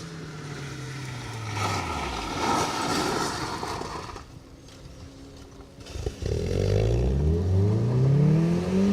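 A Vauxhall Nova rally car engine revs hard on a rally stage and rises in pitch, dips briefly, then roars back up to speed, loud and close, with no talking.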